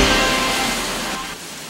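Heavy rain pouring down in Metro Manila, a dense, steady hiss of falling water that fades slightly toward the end, with no voices.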